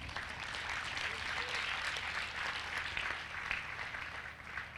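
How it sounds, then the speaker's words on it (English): An audience at a spiritual lecture series at Parmarth Niketan claps for a speaker being introduced, a soft continuous wash of applause heard at some distance at low level. "Big round of applause."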